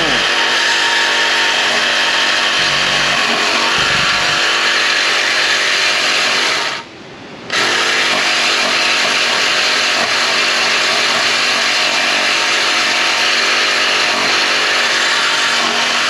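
A power tool saws through a Ford Mustang GT 4.6 exhaust pipe just behind the muffler, a loud, continuous harsh cutting roar that breaks off briefly midway and then resumes steadily to the end.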